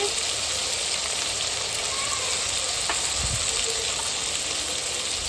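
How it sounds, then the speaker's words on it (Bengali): Rita fish pieces and eggplant frying in hot oil in a pan, a loud, dense, unbroken sizzle and crackle that fills the whole span, with a brief low thud partway through. "এই মাছগুলো বেগুনটা আমি তেলের মধ্যে দিয়ে দিচ্ছি"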